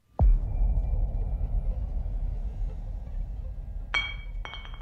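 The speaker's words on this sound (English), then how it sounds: "The glass sound was familiar." Glass item dropped onto the dirt floor of a cab in an audio game: a sharp impact at the start, then a low rumbling bed, with two bright glassy clinks near the end.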